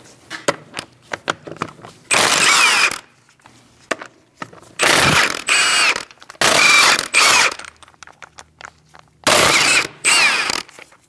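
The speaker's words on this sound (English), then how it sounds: "Using a 17mm socket, we're going to remove our wheel." Ratchet wrench with a 17mm socket working a front wheel off a 2000-2006 Mini Cooper, heard as four loud bursts of rapid clicking separated by quieter clanks and handling noises.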